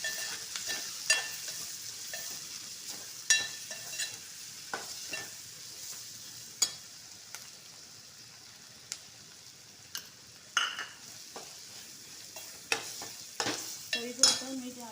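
Onions frying in oil with a spoonful of garam masala and salt, for a Marathi fish curry: a soft steady sizzle with frequent sharp stirring scrapes and clicks of a spoon against the pan, close up, no voices.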